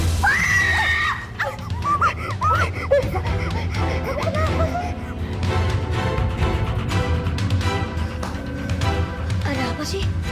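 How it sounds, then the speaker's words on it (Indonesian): A person screams loudly in wavering, drawn-out cries indoors, the shrieks rising and falling over a dense background of noise, with voices and a laugh-like sound mixed in. "Tadi udah denger ada yang teriak-teriak."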